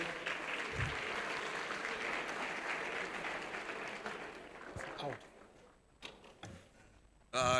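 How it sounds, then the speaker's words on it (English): An audience at a youth empowerment event gives a round of applause, dense clapping that tapers off after about five seconds into scattered claps, with a voice breaking in near the end. "can we please give him a round of applause?"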